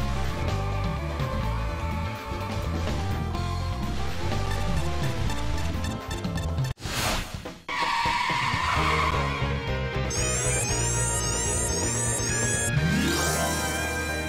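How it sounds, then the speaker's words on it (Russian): A car drifting in the OutRun 2006 racing game, with tires skidding and squealing over a steady engine drone and game music, loud throughout with a brief dropout in the middle. "Дрифт идеальнейший."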